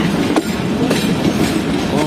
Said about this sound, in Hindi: ट्रेन जो है वो कराची कैंट रेलवे स्टेशन के आउटर पर अप्रोच कर रही है